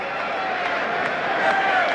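A boxing arena crowd in Reno murmurs and stirs while awaiting a fight, a steady moderately loud hubbub with scattered claps under a commentator's voice.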